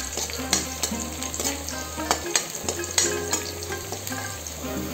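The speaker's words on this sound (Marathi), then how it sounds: "कांदे तळसुवपाक जाय" Chopped onions sizzle steadily in a hot pan. The frying hiss is close and constant, with a few soft stirring scrapes and knocks.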